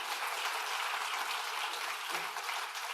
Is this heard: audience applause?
yes